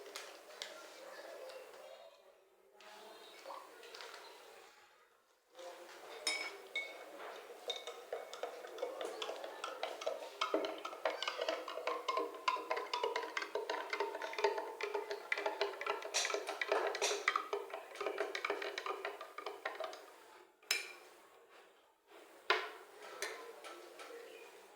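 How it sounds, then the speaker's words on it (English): A spoon clinks and taps against a glass of water as two spoonfuls of salt are added and stirred in, making a busy run of quick, light ticks close by that carry on steadily for most of the stretch. "Now this one, I'm going to put 2 spoons of salt."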